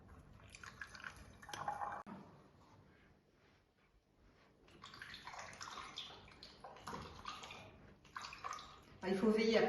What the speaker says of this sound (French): Il faut veiller à ne pas remplir jusqu'au bout, parce que comme la boisson va être gazéifiée, ça risque d'exploser.